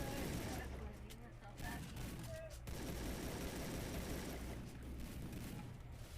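Bursts of automatic gunfire and explosions from a mobile shooter game run almost continuously and loudly, with players talking over the combat.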